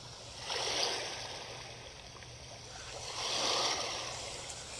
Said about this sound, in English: Sound of the water just rolling on the river.